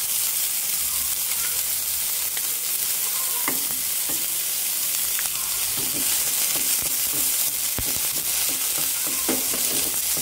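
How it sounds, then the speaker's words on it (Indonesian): Potatoes and corn being stirred in a frying pan: a steady, close sizzle of frying runs throughout, with scattered scraping clicks of the spoon against the pan. "Ini kita aduk rata sampai bumbunya menyatu dengan bahan-bahan yang ada di sini"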